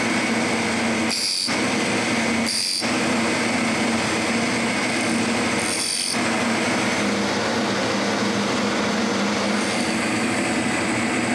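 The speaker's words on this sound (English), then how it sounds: "I drill a hole for the threaded rod I'm going to use." A power drill whines steadily and loudly throughout while drilling a hole in wood, briefly cutting out three times near the start before running continuously.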